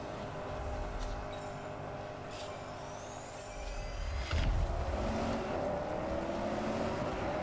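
Range Rover engine droning steadily through a race in the video game Test Drive Unlimited Solar Crown, a continuous mid-level motor hum that swells slightly louder partway through, with no talking.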